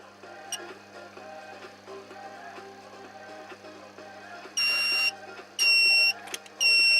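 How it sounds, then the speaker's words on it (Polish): A two-channel thermostat's electronic alarm beeps in three long, loud tonal bursts over a low background hum, the last two coming close together. "Uruchamia się cały czas alarm"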